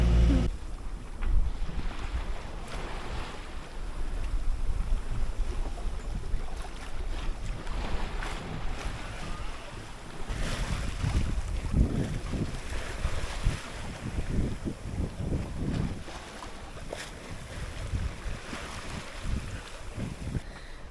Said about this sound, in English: it's been a pretty good sail today